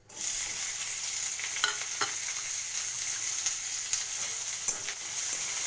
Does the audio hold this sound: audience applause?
no